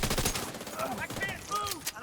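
Rapid gunfire in a video game, dense continuous shooting with overlapping bursts under game sound effects and shouted voices, loud and busy throughout.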